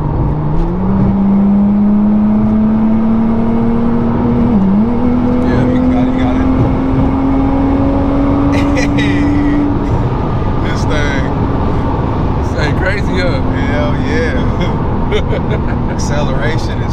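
A Nissan GTR engine climbs steadily in pitch as it accelerates hard, a loud sustained rising drone with a brief dip mid-pull, while people talk over it inside the car.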